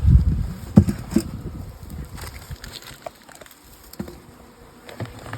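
Honey bees hum around a hive colony, a faint continuous buzz behind soft bumps and knocks of hive handling, with a few louder thuds early on and no talk.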